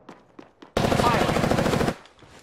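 Sustained automatic gunfire in the video game Apex Legends, a loud, close burst of rapid shots lasting over a second, framed by quieter game sounds before and after.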